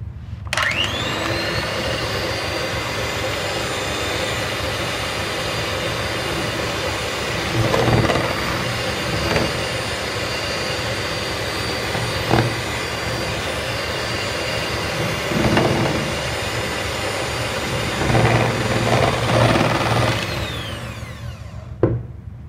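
Electric mixer beating chocolate cupcake batter with eggs and sugar, a loud, steady whine running continuously with occasional scraping knocks, winding down at the end.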